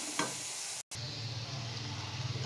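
Maash dal tipped into a hot pan sizzles steadily and close for a couple of seconds, with a brief break before the frying crackle resumes and continues over a low stirring rumble.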